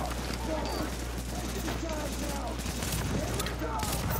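Sustained automatic gunfire in the shooter video game The Division, a dense continuous rattle of rapid shots, loud and close throughout.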